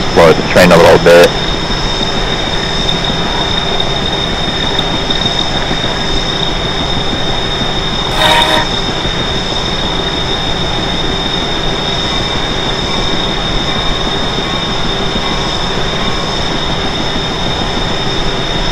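Steady rumbling of a Northeast Corridor train rolling on rails, a continuous low drone with a high whine, plus a brief clatter near the start and another midway.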